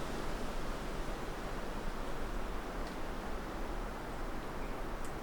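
Wind moving through the trees of the Old Wood of Drum near Aberdeen, a soft, steady, even rushing with a faint rustle, distant and low in level, no voices.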